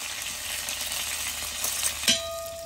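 Grated ginger and green chillies dropped into hot coconut oil after mustard seeds have popped, frying for roasted rice upma with a continuous close sizzle, a louder clatter near the end, no talk.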